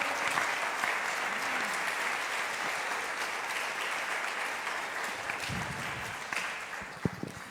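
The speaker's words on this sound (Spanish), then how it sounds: "¿Puede usted darle un aplauso al Señor en esta hora?" A Spanish-speaking church congregation gives sustained applause, a dense and even wash of clapping from many hands that holds steady throughout. It tapers slightly at the very end.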